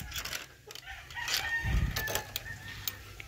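A rooster crows among a flock of sick backyard chickens kept in a quarantine area, with one harmonic call rising over steady farmyard background noise.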